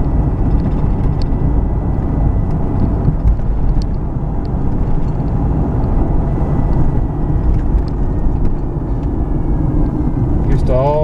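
A 2001 Ford Explorer driving along, a loud steady engine and road drone filling the whole stretch, with talk over it.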